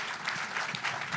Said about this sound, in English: if you just join me in a round of applause.